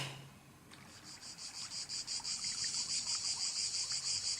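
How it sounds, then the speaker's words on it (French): Cicadas chirp outdoors in a loud, pulsing buzz that starts suddenly after a short pause and then carries on in steady, rapid throbs. "Merci les cigales, ça va aller, merci."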